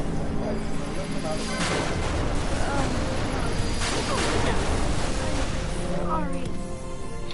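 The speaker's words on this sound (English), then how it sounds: "All those bombs just exploded on me." A cluster of bombs going off in Final Fantasy 12, a dense, continuous roar of booming blasts filling the clip, loud and unbroken, with a voice talking faintly beneath.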